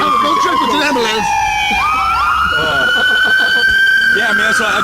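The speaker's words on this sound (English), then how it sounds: "Don't trip with an ambulance." A loud wailing siren sweeping up and down in pitch, close by, with voices talking over it.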